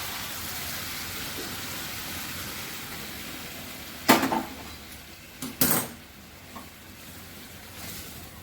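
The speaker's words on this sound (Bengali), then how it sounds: "ফুলকপি সেদ্ধ হয়ে গেছে, এবার আমি ডালটা ঢেলে দেবো।" Mung dal poured into a pot of boiled cauliflower: two short, splashy pours arrive mid-clip over a steady kitchen hiss, with a quieter trickle after.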